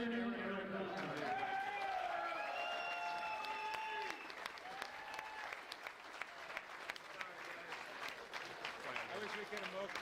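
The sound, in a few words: applause for the second place finisher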